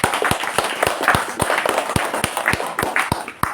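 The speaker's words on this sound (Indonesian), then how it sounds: "tepuk tangan" An audience claps at a religious sermon in Kebumen, Central Java, in a quick, even rhythm of sharp hand claps, close and fairly loud, with no talk over it.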